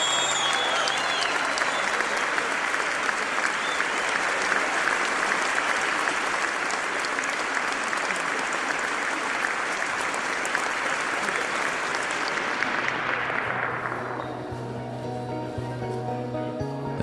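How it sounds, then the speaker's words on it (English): A large audience applauds in a dense, sustained wash of clapping for about twelve seconds, then the applause thins out and fades to scattered claps. "Applause."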